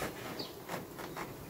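Agitated honeybees buzzing around a hive during queen introduction in a cage, a continuous low hum with a few brief louder passes close by, with no voices.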